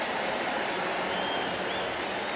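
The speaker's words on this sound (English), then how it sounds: "And the Raider fans cheer first down Oakland." Raider fans in a stadium at a football game cheer a first down, a broad steady roar of crowd noise and applause, distant and continuous.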